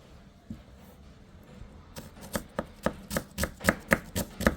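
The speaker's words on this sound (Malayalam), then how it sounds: "സവോള അരിയുകയാണ്." Onion being chopped on a cutting board at home, a steady run of sharp knife strikes that quickens after a quiet start, close and distinct with no talk.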